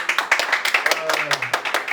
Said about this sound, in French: J'aimerais qu'on applaudisse tous les garçons qui sont ici.